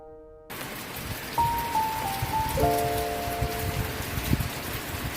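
Rain falls steadily during acacia honey season at a rural beekeeping farm, a continuous hiss of drops on surfaces that begins abruptly after a short quiet moment, with faint tonal sounds mixed in.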